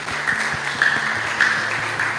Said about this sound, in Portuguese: Você pode aplaudir o Senhor por causa disso?